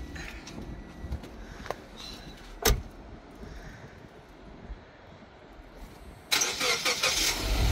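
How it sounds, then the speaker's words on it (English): A car engine cranks with a sharp burst, then idles quietly before revving loudly near the end; a key start of a newly bought dream car, close by with no talk. "Start your dream car."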